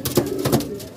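Pigeons coo close by in a short burst of soft repeated calls. A faint voice is heard underneath.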